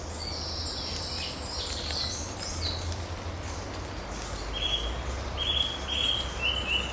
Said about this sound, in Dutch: Een zanglijster heeft een heel gevarieerde zang, maar hij herhaalt vaak zijn strofen een keertje of twee, drie.